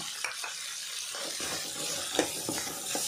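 Beans, carrots and other vegetables stir-fry in a pan for prawn fried rice, giving a steady close sizzle broken by scraping stir strokes and light utensil knocks.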